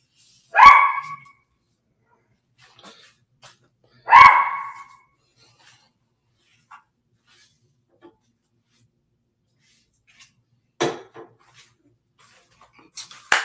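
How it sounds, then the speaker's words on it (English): Dogs kept indoors let out two sharp, close barks a few seconds apart, followed later by fainter yips and small noises, with quiet gaps between. "The dogs are in here."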